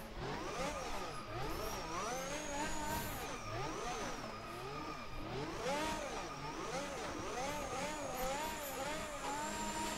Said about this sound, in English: let's try to do some small circle donuts at least